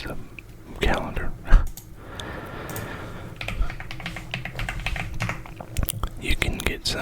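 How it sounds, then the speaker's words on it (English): Clicky computer keyboard typing comes in quick bursts and separate taps, close and fairly loud, with someone whispering in between. "You can get some keyboard sounds though."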